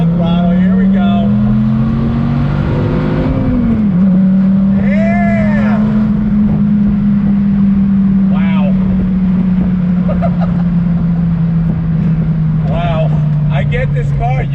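A Dodge Viper sports car under throttle, its engine droning steadily and loud from inside the cabin, pitch rising briefly then holding as it pulls, with someone talking over the engine throughout.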